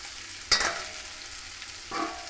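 Partly boiled pumpkin pieces drop into a pan of spices and potatoes frying in oil for a Bengali kumror chokka, giving a sharp sizzle burst, then a quieter hiss and a second stir-and-sizzle a moment later.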